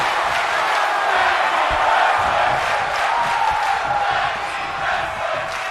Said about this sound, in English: Listen to the crowd. They are loving this action.